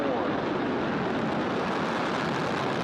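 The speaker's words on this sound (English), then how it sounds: "Ignition and liftoff. Go Falcon, go NG-24." Falcon 9 rocket lifting off with a Cygnus NG-24 cargo spacecraft, a loud, steady broadband roar that fills the whole clip and stays unbroken throughout.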